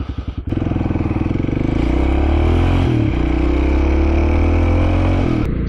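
Kawasaki KLX 250 with a big bore kit and new valves turns over and catches, then settles into a loud, close, steady running putter with a brief dip midway.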